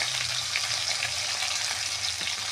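Spice pastes of green chilli, ginger, black cumin and coriander with turmeric and salt fry in a pan for a Bengali rui fish curry, giving a steady, dense sizzle close by with no talking.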